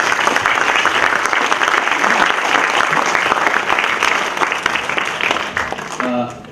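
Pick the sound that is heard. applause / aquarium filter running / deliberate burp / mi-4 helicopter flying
applause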